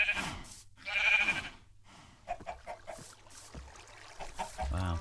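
Sheep bleat in a video game farm area, a few short wavering calls early on followed by scattered clucks and clicks from other game animals, moderately close with no talking.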